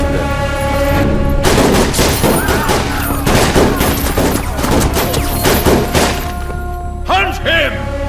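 Gunfire erupts in a dubbed Hindi action film scene, dense rapid shots and thuds hammering loudly together as a sustained barrage, with a booming score and scattered effects throughout.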